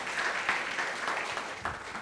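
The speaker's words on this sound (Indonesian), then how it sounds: "berikan tepuk tangan meriah buat Tuhan kita" Worshippers clap during a church service, a dense, moderately loud patter of applause with slight swells, no speech rising above it.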